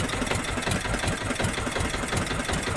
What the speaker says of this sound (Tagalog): Magalaw talaga yung ating makina. Masyadong vibrate yung dikrudo.